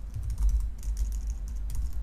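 Rapid keystrokes on a computer keyboard while a git commit command is entered at a console, close and steady with brief pauses between bursts of typing.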